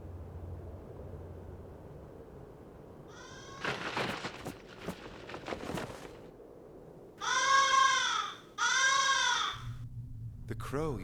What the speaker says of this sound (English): The crow you just heard is singing his song of death for you.